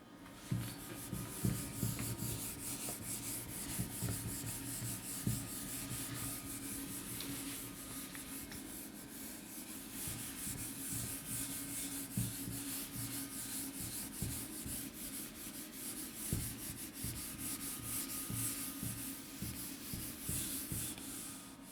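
Writing is wiped from a board with steady back-and-forth rubbing strokes, faint but continuous throughout, with no voices.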